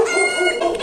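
Chickens cluck steadily at close range on a Bangladeshi homestead, a busy overlapping run of short calls with no pauses across the brief moment.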